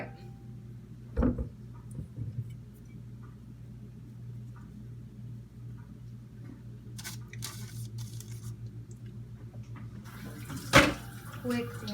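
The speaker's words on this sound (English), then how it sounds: "Quick wash of the hands." A kitchen tap runs as hands are washed, water splashing into a sink at moderate distance with occasional louder bursts and clatter, while a voice speaks briefly.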